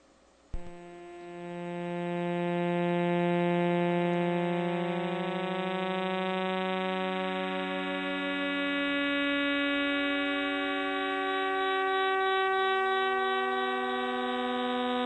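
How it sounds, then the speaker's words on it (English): A radio-telescope recording of the millisecond pulsars in the globular cluster 47 Tucanae, turned into a steady droning hum. It starts with a sudden onset and holds a rich, organ-like chord that sustains loudly and slowly shifts in pitch for over ten seconds. "the 16 recorded millisecond pulsars in 47 Tuc are making this sound"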